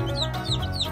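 Baby chickens give soft high peeping chirps, several quick calls in a second, close by in an indoor box under a heat lamp, with a low background hum.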